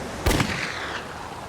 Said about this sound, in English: I fired off my 3 last rounds of my pistol to try to get more help